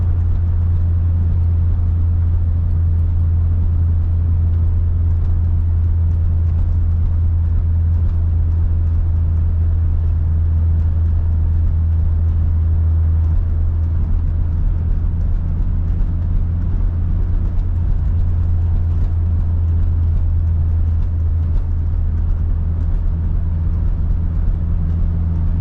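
Cabin of a silver Acura RSX on the move, a steady low engine and road drone filling the interior, unchanging and continuous throughout, with no talking.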